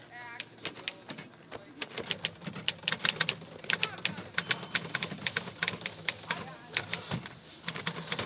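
Rapid clacking of manual typewriter keys during a typing speed contest, dense irregular strikes filling the scene with faint voices and room noise underneath.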